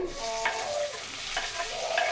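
Tomatoes go into frying onion and ginger-garlic paste, tempered with cumin, mustard seeds and curry leaves for a black pea usal, giving a brief, close sizzle with a couple of stirring scrapes.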